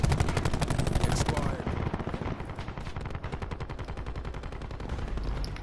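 Rapid automatic gunfire in a first-person shooter match, dense loud bursts of shots rattling continuously throughout, close and overpowering, with a voice faintly mixed in.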